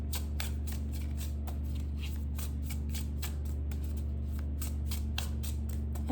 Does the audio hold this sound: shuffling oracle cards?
yes